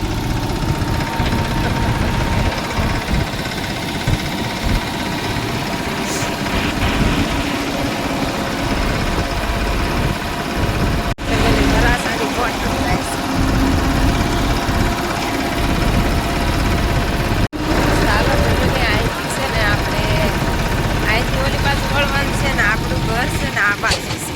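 A loud, steady engine drone runs throughout, like a tractor chugging along, with people talking over it.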